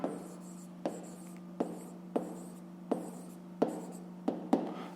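Fractions are handwritten for a fifth-grade math exercise, heard as a series of distinct scratchy strokes about once per second, close and quiet, with no voices.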